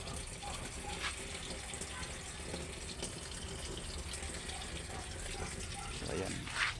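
Water runs and gushes steadily into a Sharp automatic washing machine tub, a continuous splashing flow heard close up with faint voices and occasional clicks around it.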